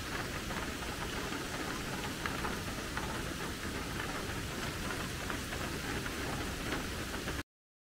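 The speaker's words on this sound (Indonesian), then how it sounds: "Oke, ini hujan." Steady rain falls in a constant hiss of drops on hard surfaces, even and continuous until it cuts off abruptly.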